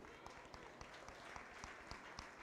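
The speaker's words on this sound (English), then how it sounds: "Give these folks a round of applause" Applause at a 4-H county fair swine show, steady clapping from a crowd under a hum of ambient noise, faint and somewhat distant, with a voice talking over it.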